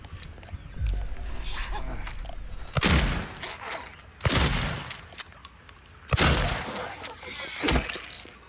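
Gunfire in the Silent Hill 2 Remake game: several separate loud, sharp bursts spaced a second or two apart, each with a boomy low end, over a dark rumbling ambience.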